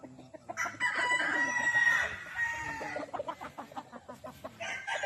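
Chickens and roosters on a farm in Ilocos: a rooster crows loudly up close over a background of clucking hens, followed by a run of rapid, rhythmic clucks.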